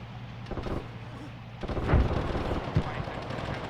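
Deep mortar fire booms during a military exercise in a forest in Tunisia, a couple of heavy thumps over a rumbling outdoor background with faint voices.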